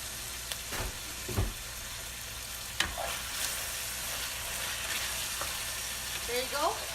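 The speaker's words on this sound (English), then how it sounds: "Just stir it for a few minutes." Kimbap filling coated in sauce fries in a pan with a steady close sizzle, while a few sharp scraping stirs and clacks of the utensil cut through at intervals.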